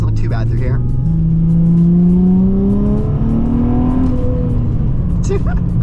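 A Nissan 350Z sports car engine rises in pitch through the gears, dropping and climbing again as it downshifts and revs, loud and close with a person's voice briefly over it.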